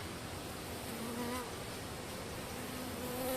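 Dense, continuous buzzing of many honeybees close by at an open hive, a steady droning hum without pauses or voices.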